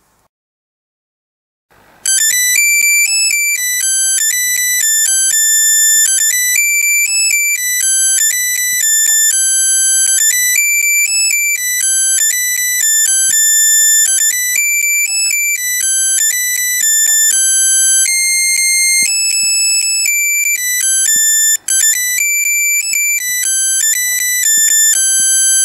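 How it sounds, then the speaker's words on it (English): Shivas melody alarm watch from 1982 playing the tune "Oh Suzannah" as its alarm, a thin, bright, steady electronic beeping melody that starts after brief silence and repeats continuously, close and alone. "The alarm on the watch is the song "Oh Suzannah.""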